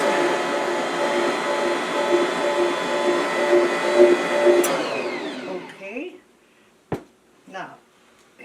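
Bread machine mixing multigrain honey wheat dough with spelt, a steady loud motor whir and rumble that runs for several seconds, then stops, followed by a few brief knocks and handling noises.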